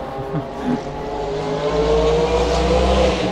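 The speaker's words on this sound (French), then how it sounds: "Là c'est une voiture de course." A rare French Vaillante race car at the Le Mans Classic, its engine rumbling close by with a steady low growl that swells and rises in pitch as it accelerates.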